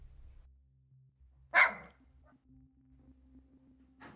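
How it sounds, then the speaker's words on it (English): A dog in a doorway on a cold night gives one sharp, close bark, with faint low hum and rustle before and after. "Holy shit, there's a dog!"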